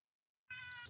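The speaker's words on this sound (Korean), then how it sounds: "고양이가 많이 우는데" A cat meows loudly and close, a single sustained cry that starts abruptly after a moment of silence.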